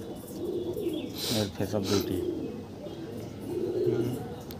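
Andhra pigeons at a fancy pigeon show coo in a low, soft murmur, a few swelling bursts rising and fading beneath someone speaking close by.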